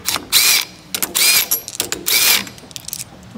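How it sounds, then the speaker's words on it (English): Power drill or impact tool spinning bolts out of a Kinetrol actuator spring unit, three loud whirring bursts of about half a second each with short gaps, close and without speech. "Now you're ready to remove your bolts."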